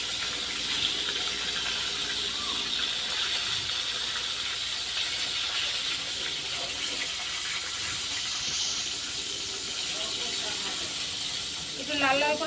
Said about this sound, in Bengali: মাছের এক পিঠ আমার ভাজা হয়ে গেছে, আর এক পিঠ আমি উল্টে দিচ্ছি।